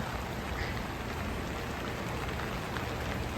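Rain falls outside with wind on an October day in Canada, a soft, steady wash of drops on surfaces that holds evenly from start to finish.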